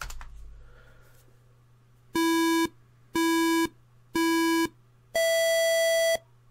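A homemade ninja warrior course timer sounds its start sequence: three evenly spaced short electronic beeps about a second apart, then a longer, higher-pitched final tone, loud and clear over faint room noise.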